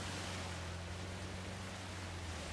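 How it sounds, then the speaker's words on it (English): Waterfall in Uncharted: The Lost Legacy, a steady, dense rushing roar of falling water, close and even with no pauses. "Good waterfall."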